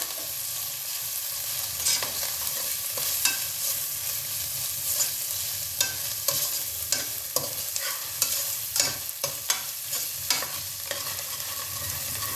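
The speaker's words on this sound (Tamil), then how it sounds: "இஞ்சி பூண்டு வதங்கி வாசம் வந்த உடனே இதில் இந்த பச்சை மிளகாய், புதுசாக வெட்டி வச்சுருக்கிற கொத்தமல்லி இலை, இந்த புதினா இதையும் போட்டு" Green chilies, fresh coriander leaves, mint and rampa (pandan) leaves sizzle in sautéed ginger-garlic paste for a mild chicken biryani, with a steady close frying hiss broken by repeated sharp scraping stirs throughout.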